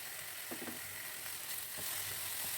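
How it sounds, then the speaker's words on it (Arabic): Ground meat with ketchup and soy sauce sizzling in a pan, a steady fizzing sizzle broken by several soft scraping strokes of a stirring spoon. "هقلب كويس قوي"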